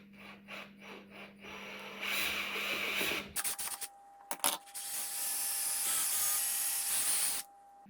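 A power drill with a long drill bit whirs in bursts, stopping and starting, then runs steadily for several seconds before cutting off. Close and fairly loud.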